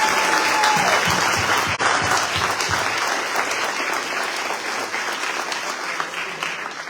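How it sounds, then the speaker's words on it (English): A large audience at an awards event gives sustained applause, a dense even patter of clapping that holds steady and slowly fades over several seconds. "can we all give her a warm round and wonderful applause?"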